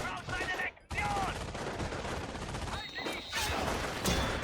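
Heavy, continuous gunfire in a war video game, dense machine-gun bursts and overlapping shots filling the scene, loud and close with a brief lull near the start.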